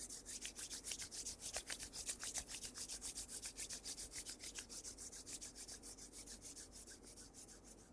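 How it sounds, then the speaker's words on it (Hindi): Both hands rub briskly together in a quiet room, a close, soft, rhythmic swishing of skin on skin repeating steadily back and forth for several seconds. "दोनों हैंड्स को रब कीजिए"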